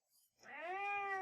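A house cat meows once indoors, a single clear rising-then-sustained call close to the mic after a faint murmur.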